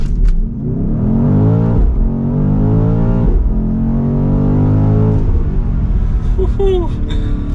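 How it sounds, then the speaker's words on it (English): A 2023 BMW XM hybrid SUV launches hard under launch control, its engine roaring and climbing in pitch through several quick gear shifts, loud and close from inside the cabin, with a brief voice near the end. "So the first thing we need to do in the XM is launch control."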